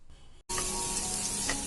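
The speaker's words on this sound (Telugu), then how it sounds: "అలాగే కొద్దిగా కరివేపాకుని కూడా వేసుకుని ఉల్లిపాయల్ని ఫ్రై చేసుకుంటూ ఉండాలి" Onions with green chilli and curry leaves hit hot oil after a faint lead-in, bursting into a loud, steady, close sizzle with a light clatter of stirring.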